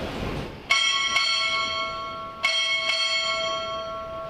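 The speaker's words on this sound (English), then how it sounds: "Time orderly, strike 4 bell." A ship's bell is struck four times in two spaced pairs at a Navy recruit graduation ceremony at Great Lakes, each strike ringing bright and lingering in a large hall.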